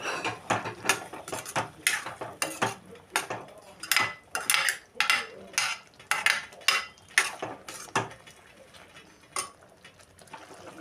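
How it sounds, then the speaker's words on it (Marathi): A spoon stirs cooked rajma in a metal pot, knocking against the sides in a quick series of close, sharp clanks that slow and fade toward the end. "आता यात हे राजमा आपण शिजवलेलं आहे ते घालू आणि चांगलं हलवू"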